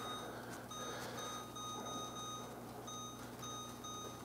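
A kitchen timer beeps in a home kitchen while scones bake, a quick run of faint, evenly spaced electronic beeps over a steady background hum.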